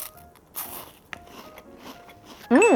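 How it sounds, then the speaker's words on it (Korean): A crisp, thin-layered soy milk flavoured egg roll snack being bitten, giving a short loud crunch near the end after a stretch of quiet rustling and faint background noise. "엄청 바삭바삭하면서 엄청 얇은 겹들이 파샤샥 부서져요"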